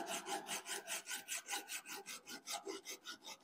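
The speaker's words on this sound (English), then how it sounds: "I'm going to file it" Hand file rasping rhythmically across the cut end of a plumbing pipe, about a dozen steady back-and-forth strokes, close and fairly quiet with no talking.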